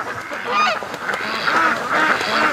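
A flock of ducks at a lake, honking and quacking in a loud, overlapping chorus of calls, close by and without talk.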